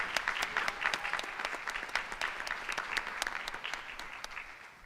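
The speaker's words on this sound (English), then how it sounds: "let's give her a big round of applause" A crowd at a board of education meeting claps in quick, crisp bursts. The applause is fairly faint and stays steady throughout.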